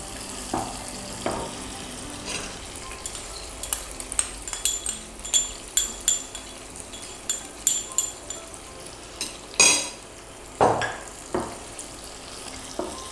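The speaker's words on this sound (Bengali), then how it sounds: "পেঁয়াজটা একদমই গোল্ডেন ব্রাউন হওয়া পর্যন্ত পেঁয়াজটা ভাজতে থাকব।" Onions fry in soybean oil in a pan for a fish curry with cauliflower and broccoli, a soft steady sizzle broken by repeated metallic clinks and scrapes of a spatula stirring, close up with no voices.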